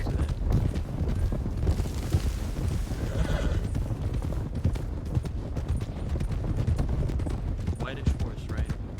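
Horse hooves clip-clopping in a Red Dead Redemption 2 roleplay game, keeping up a steady rhythmic trot with a whinny partway through, under continuous players' voices and game ambience.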